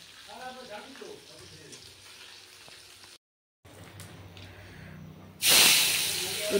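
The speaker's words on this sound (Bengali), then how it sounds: "মাছের মুড়োটা কালকে রাত্রে ভেজে রেখেছিলাম, আবার একবার ভাজলাম।" A fried fish head is put back into hot oil for a second frying: a loud hiss and sizzle flares up near the end, while earlier stretches carry quieter kitchen noise, a short silent gap, and a voice talking.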